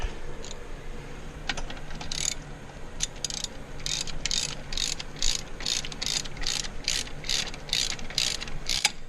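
Ratchet tightening a brake caliper bolt on a Chevy 2500 HD pickup: a close, crisp series of rapid clicking bursts repeating in a steady rhythm, about a dozen strokes.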